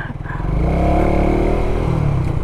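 A Suzuki Raider 150 Fi motorcycle rides off-road, its engine droning loud and close with steady revving and some clatter over the short stretch, no talking.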